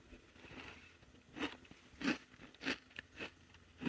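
A Keto Cracked Peanut Caramel Crunch Bar is bitten and chewed close up, giving a series of about five sharp, crisp crunches at irregular intervals over quiet background noise.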